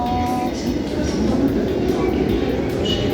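A train passes close by with a steady, loud rolling rumble and rail noise that holds unbroken for the full stretch.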